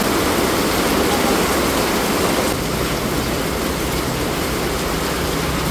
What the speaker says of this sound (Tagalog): Malakas po ng ulan.